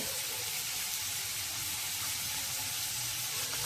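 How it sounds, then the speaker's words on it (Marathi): Onion frying in oil, a steady hiss of sizzling that stays even and moderately loud throughout, with no talking. "छानपैकी आपण कांदा परतून घेऊया."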